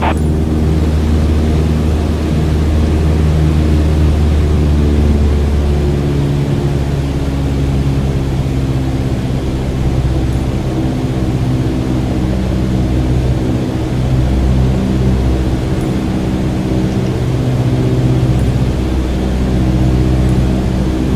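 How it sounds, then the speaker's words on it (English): The engine of a Cessna 152 is throttled back to 1800 RPM. A loud, continuous droning hum is heard from inside the cockpit, steady for the whole stretch with no talking. "Pull back on the throttle to reduce RPM to 1800."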